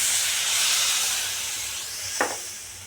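Water poured into hot oil over fried masala for an egg gravy bursts into a loud rushing hiss of steam that slowly fades, with a brief clank of a utensil near the end.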